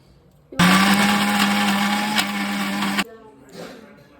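A mixer grinder grinds coriander chutney with salt, a loud steady motor whine starting abruptly and running for about two and a half seconds before cutting off, followed by a faint rustle.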